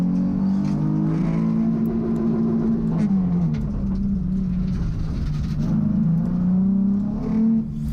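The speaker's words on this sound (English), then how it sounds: "starting to be confident to just rev out the engine" A race car engine revs steadily on a test day, a loud sustained drone that rises and falls in pitch over several seconds, with no talking.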